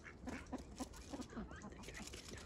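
A drake duck quacks in a series of short, raspy, low calls that repeat at an uneven rhythm, fairly close, against a steady background noise.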